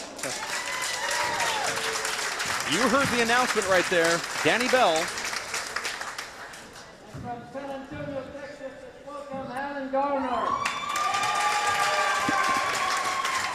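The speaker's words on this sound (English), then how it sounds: "see which guy the crowd's going to clap louder for" Spectators at a four-wall handball championship semifinal clap and cheer in a sustained wash, while an announcer speaks over them throughout and the crowd swells again near the end.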